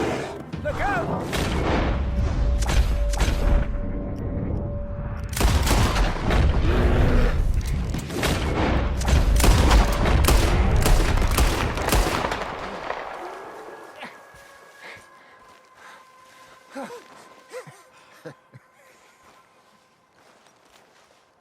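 Gunfire in Red Dead Redemption 2 erupts as a dense volley of loud booming shots for about twelve seconds, then thins to scattered distant reports and quieter game sounds.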